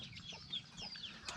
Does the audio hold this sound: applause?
no